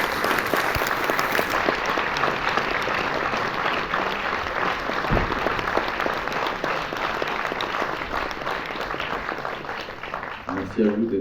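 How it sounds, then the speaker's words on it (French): A cinema audience applauds filmmaker Éric Rochant, dense sustained clapping from a large crowd filling the whole stretch, loud and even, with faint voices mixed in near the end. "Avant d'accueillir et d'applaudir Éric Rochon."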